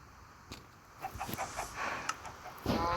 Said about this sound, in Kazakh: Тауықтардың фермасы.